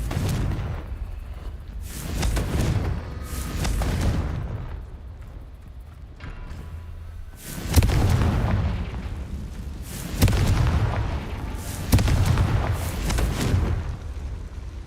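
Repeated booming blasts from the Confringo spell in the Hogwarts Legacy video game, several heavy explosions spaced a few seconds apart with rumbling tails and quieter stretches between.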